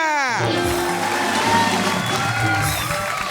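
Studio audience at a televised Indian stand-up comedy contest breaks into loud, sustained clapping and cheering as a contestant from Amritsar is introduced, a dense wash of crowd noise with whoops over it.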